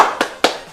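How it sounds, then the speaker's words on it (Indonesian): Two sharp hand claps land close together, part of a children's 'tepuk semangat' clap chant, loud and near with a short ring after each. "Oke, kita tepuk semangat ya."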